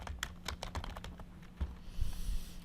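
Keys clatter on a computer keyboard while someone enters a command in an Excel spreadsheet, a quick burst of close, crisp taps followed by a few scattered strokes and a soft rustle, with no voice.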